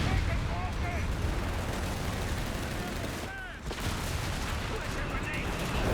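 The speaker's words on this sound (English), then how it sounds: "There's another zeroing artillery." Artillery barrages in Company of Heroes 3 during a 4v4 match on Castello della Nebbia, a dense continuous rumble of distant shelling and gunfire with a brief lull midway, under faint background game sounds.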